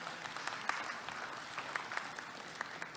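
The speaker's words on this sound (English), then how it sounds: "Can I get a round of applause for Onigaming here?" An audience at a national assembly of First Nations delegates applauds, a soft, fairly distant patter of many hands with scattered sharper claps throughout.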